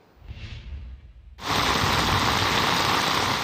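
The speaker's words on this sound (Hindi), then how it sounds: "रावलपिंडी और इस्लामाबाद में तूफानी बारिश से हर तरफ पानी पानी हो गया।" Stormy monsoon rain in Rawalpindi and Islamabad: after a short stretch of quiet, muffled ambience, a loud, dense roar of pouring rain cuts in abruptly and holds steady, near and with no talking.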